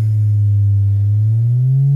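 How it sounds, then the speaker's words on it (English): A steady sine tone from a Eurorack modular synth, its pitch wobbling under a slow LFO and drifting upward near the end, a clean continuous electronic hum with no voices. "we can see and hear the fluctuations in pitch"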